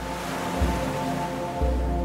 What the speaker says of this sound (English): hearing the sound of the surf as the waves come into shore